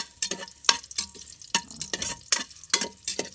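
Ginger frying in a pan for a vegetable dish, with crisp sizzling and repeated sharp stirring scrapes at an irregular rhythm, close and fairly loud with no voices.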